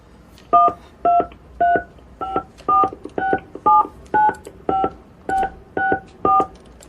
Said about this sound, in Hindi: आप पेमेंट अपने मोबाइल से 16 अंक का क्रेडिट कार्ड नंबर डाल दीजिए।